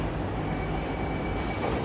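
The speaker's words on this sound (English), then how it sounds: "Okay, this train's departing." Steady broadband rumble of a Siemens C651 metro train departing a station in Singapore, rolling along the track, with a faint high whine over the continuous roar.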